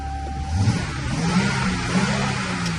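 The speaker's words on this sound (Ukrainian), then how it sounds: "Двигун теж працює, шикарний звук." A 3.6-litre Pentastar V6 car engine running and revving up, its tone rising in pitch and then holding a smooth, steady hum close by.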